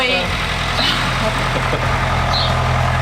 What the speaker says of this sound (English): Get a little footage of the tractor going.